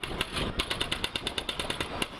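Renovation work on Krakow's main market square: a jackhammer pounds in a fast, steady series of sharp strikes over rumbling machinery, close and loud.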